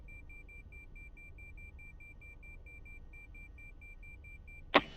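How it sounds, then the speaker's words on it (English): A steady electronic alarm from the X-Plane 11 flight simulator beeps in a rapid, even chain of short high tones running throughout, over a low cockpit hum, before a sudden loud thump at the very end. "What is this fucking alarm?"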